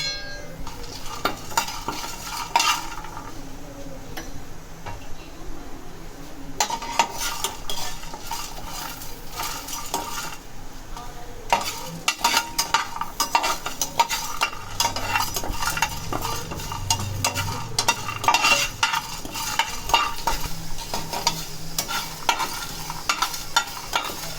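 Cumin, chillies and curry leaves crackle in hot oil for kovakkai poriyal as a spoon stirs and scrapes the pan continuously, a dense sizzle with metallic clinks throughout and no one speaking.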